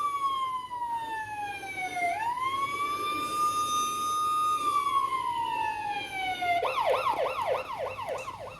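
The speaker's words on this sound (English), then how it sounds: "I'm pretty happy with the police sound though" A police siren from a sound module on an ARRMA RC car wails in long rising and falling sweeps, then switches to a rapid yelping warble near the end, fairly clear and alone.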